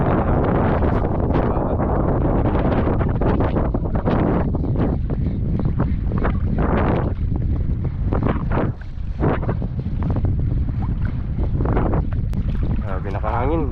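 Strong wind at the seashore during shore casting in Palawan, heavy gusty rumble buffeting the microphone with surf-like noise underneath and occasional voices talking.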